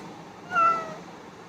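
A talkative pet cat lets out a single short, close meow over a quiet room background.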